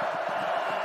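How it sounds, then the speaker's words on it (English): A packed college football stadium crowd at a Purdue versus Iowa game roars in a steady, dense wash of cheering that holds at an even level throughout. "And now the crowd gets back into it."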